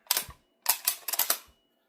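Bolt of a Lee-Enfield No4 Mk1 rifle worked by hand: a sharp metallic click, a short pause, then a quick run of crisp clacks and rattles as the action is cycled, close and clear with no talking.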